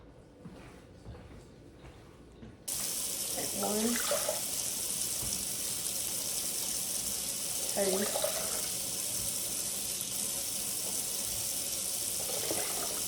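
A warm-water tap runs steadily with a hissing stream filling a container with about three cups of water, while a person speaks briefly nearby.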